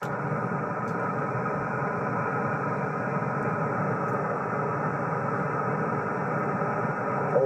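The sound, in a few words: train passing next to the radio station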